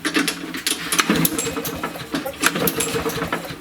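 Lawn mower engine with an auto choke being cranked repeatedly without catching, a rough sputtering rattle in uneven bursts, close and fairly loud.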